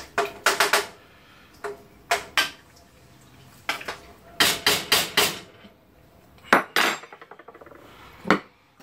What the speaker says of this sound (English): Mix that all up to where everything gets coated.